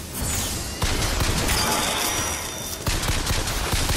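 Pistol gunfire in the shooter game Bioshock Infinite, a dense barrage of loud shots and impacts layered over a constant game soundscape, with sharp bursts near the start and around three seconds.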